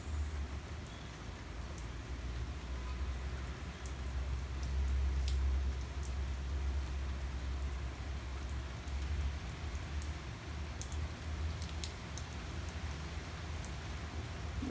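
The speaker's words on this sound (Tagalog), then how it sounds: "Lumalakas ang ulan, lumalakas." Rain falls on a rainy morning, a steady soft hiss with scattered sharp drop taps, fairly faint and continuous, swelling slightly midway, with no talk.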